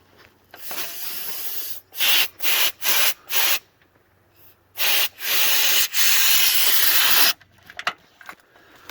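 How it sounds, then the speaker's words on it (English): A hissing spray of washer fluid from a Ford F250 nozzle comes in several sharp bursts, then a longer sustained hiss, with quiet pauses in between and no talking. "I was able to get spray coming out"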